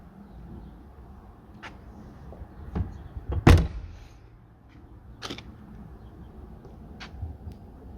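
A car door opens and shuts on a vintage Porsche 911 converted to electric power, heard as a few sharp latch and panel clicks with one louder thunk in the middle, all quiet and close against a calm background.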